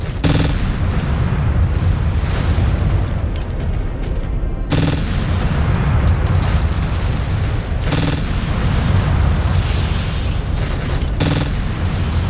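Dropship turrets in MechWarrior 5 Clans fire on the player in loud, sustained heavy gunfire, with dense booms and rumbling blasts rolling continuously and sharp bursts punching through every few seconds.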